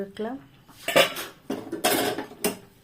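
A pot lid clatters as it is lifted off a pan of cooked semolina pulao, with several short metallic knocks and scrapes of cookware close by, loudest midway and again near the end.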